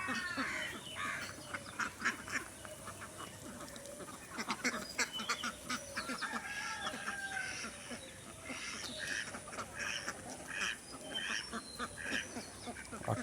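A flock of ducks, including drakes, on a farm with geese housed nearby, keeps up a busy stream of quacks and honks at moderate distance, overlapping in an irregular chorus throughout.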